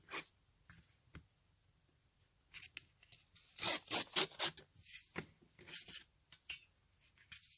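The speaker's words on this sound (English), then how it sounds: "Turn that over and give it a good burnish again." Paper burnished by hand for a handmade junk journal, with close scratchy rubbing strokes that come in irregular bursts and build to a fast run of rasping passes, then taper off.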